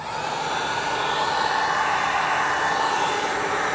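A heat gun blows a steady, loud, unbroken roar of hot air while warming trim on an old Mercedes coupe, with no voices.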